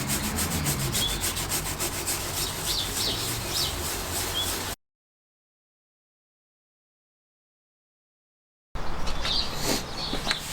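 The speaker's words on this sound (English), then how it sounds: "see if I can get some of this to move a little bit off the top of the piston" A tool scrapes blackened carbon deposits off the piston top of a classic Fiat 500 engine during a head gasket job, a steady close gritty rubbing that cuts out for several seconds, then resumes.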